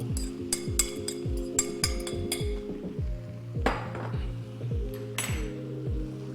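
Cooked quinoa folded into a one-pot dish, with a series of rhythmic clanks and scrapes of a utensil against the metal pot, fairly close, with brief metallic clinks between strokes and no talking.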